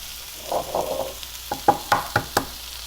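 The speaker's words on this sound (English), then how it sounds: "let's go ahead and crack those eggs" Eggs cracked into a hot pan of tricolor bell peppers, a few soft sizzling bursts followed by a quick series of sharp, close knocks and cracks, then quiet.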